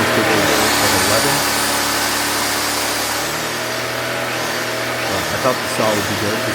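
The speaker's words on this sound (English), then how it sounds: "you can hear the saw going on" A circular saw running while powered by a Honda EB1400X generator, a loud continuous motor whine over the generator's engine drone, the pitch shifting slightly as the saw speeds up and slows, with a voice talking underneath.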